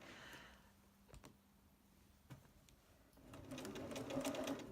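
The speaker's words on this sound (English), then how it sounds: "Sewing at that 5/8 seam allowance." Sewing machine running a 5/8-inch seam allowance: a low steady mechanical whir of stitching, with a few faint clicks early on and a louder, busier run of stitching toward the end.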